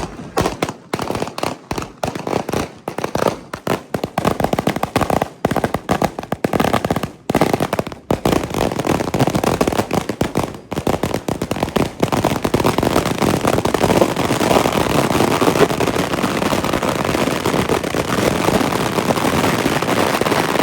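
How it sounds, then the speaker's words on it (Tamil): Firecrackers go off at a celebration for Vijay fans outside Kakkaitivu market in Jaffna, a long dense string of rapid crackling pops that merges into a continuous roar. No voices are heard. "இப்ப பாருங்க, அந்த வெடி கொளுத்த போயினா"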